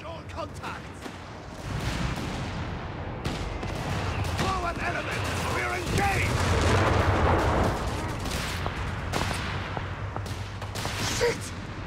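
Rapid gunfire and booming artillery from a Company of Heroes 3 2v2 battle, with dense overlapping bursts and heavy impacts running continuously at steady loudness, with voices occasionally mixed in.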